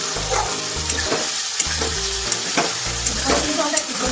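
Chicken curry masala sizzling and frying in hot oil in a pan, a steady crackle with irregular stirring scrapes and a low rhythmic thumping underneath.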